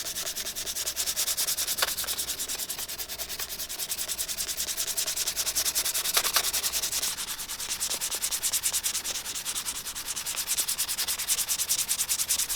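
Very fine, high-grit sandpaper rubs over worn leather shoes in a steady, continuous, fast scratchy hiss that stays at an even, moderate level for the whole stretch with no talking.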